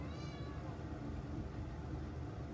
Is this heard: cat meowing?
yes